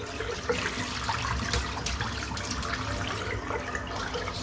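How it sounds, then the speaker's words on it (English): Cold tap water runs steadily over a shaving brush, a TDR Rhodium 28mm silvertip, as it is rinsed at a sink, giving a continuous close splashing wash with small spatters and no voice. "So I'm just rinsing it out with cold water"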